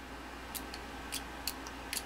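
A 50 farad supercapacitor dumped through a pair of scissors gives a few sharp, faint snaps and clicks, spaced irregularly over two seconds against a quiet background hiss.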